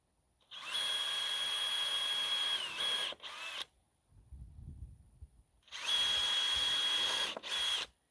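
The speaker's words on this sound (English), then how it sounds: "we'll pre-drill a hole real quick on the feet. We'll just drill one in here." A power drill whirs steadily in two bursts, pre-drilling holes in wooden furniture feet, each with a short stutter before stopping, separated by a quieter low rumbling of handling noise.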